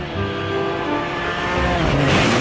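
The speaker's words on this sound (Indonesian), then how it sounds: "Di sini ada mobil balap." Toy race car sound effect: a revving engine whine with squealing tires, loud and continuous for a couple of seconds with no talk over it.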